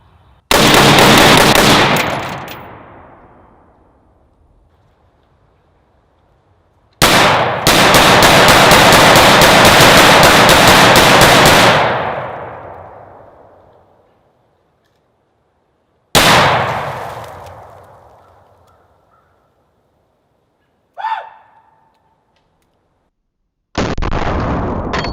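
A Saint Victor 556 rifle fires during sighting-in at a range: two long, loud rapid bursts of shots, each trailing off into echoing decay, then a single ringing metallic clang and another burst starting at the end.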